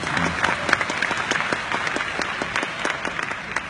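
An audience claps at a company event, a brisk burst of scattered applause throughout, fairly close and with no talking.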